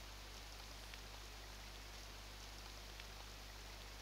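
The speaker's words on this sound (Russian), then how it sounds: "На редкость упорный дождь." Steady rain falls in the video game Beautiful Escape: Dungeoneer, an even, continuous hiss of drops with a low hum underneath, quiet and unchanging throughout, with no voices.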